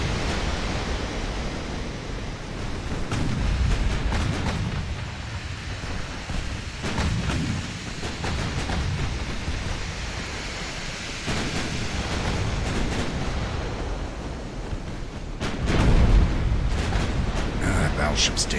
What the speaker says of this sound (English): Problem is, everybody's firing at the same ship.